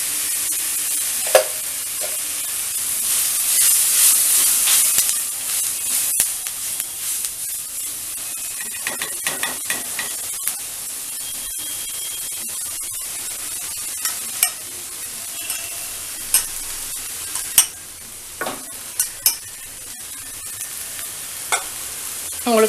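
Poha cooking in a pan with capsicum, carrot and pepper powder, stirred steadily with a spoon over a continuous oil sizzle, with sharp scrapes and clinks of the utensil against the pan and no talking.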